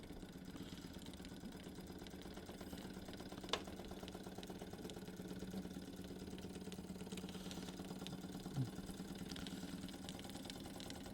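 A Wilesco D455 toy steam engine, not run for some time, chugs steadily at close range in a soft, even mechanical rhythm with faint hissing and an occasional light tick.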